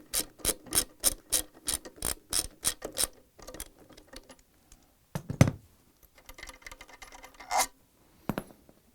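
A 10mm socket wrench ratcheting bolts out of the stator on a Samsung washer, with a quick rhythmic series of sharp clicks, then scattered metallic clicks and clunks, close up with no talking.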